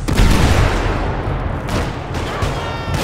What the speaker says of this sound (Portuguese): agora a granada foi